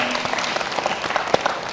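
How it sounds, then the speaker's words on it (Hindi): An audience at a film-industry talk gives a short burst of applause, a brisk patter of claps lasting under two seconds. "मुझे लगता है कि तालियां होनी चाहिए।"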